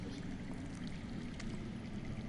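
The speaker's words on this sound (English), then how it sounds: "That's water. I hear water. From underground." Faint water flows beneath the ground, a soft steady rushing and trickling heard from a distance with no voices over it.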